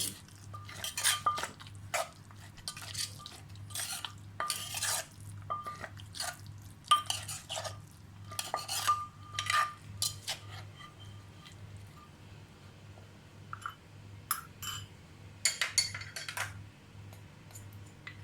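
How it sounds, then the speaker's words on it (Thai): A spoon clinking and scraping in a bowl while eggplant soup ingredients are mixed with canned fish, with irregular bursts of metallic taps and stirring separated by quiet gaps over a low steady hum. "แล้วก็คลุกเคล้า คลุกเคล้าทุกอย่างให้เข้ากัน"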